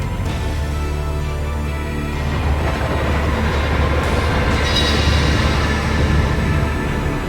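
A loud, steady mechanical roar of a flying car in the game Sons of the Forest, like a large vehicle engine droning, continuous and unbroken throughout with no voices.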